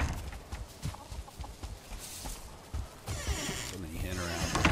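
Hens cluck in a farm pen in the Valheim game, soft repeated clucks and rustling under a low game backdrop, fairly faint and intermittent.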